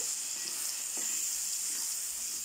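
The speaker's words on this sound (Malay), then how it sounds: "Tunggu tomato ni nak betul-betul masak dalam minyak dulu ya" Tomato cooking in hot oil for a traditional fish and moringa curry, a constant dense sizzle with faint occasional stirring touches, no voices.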